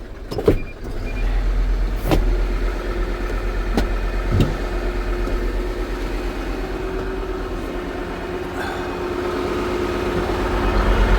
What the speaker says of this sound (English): Let's put that PTO back on.